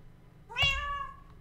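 A single short, clear cat meow from the video game Forever Stranded, close and fairly quiet, with near silence before and after.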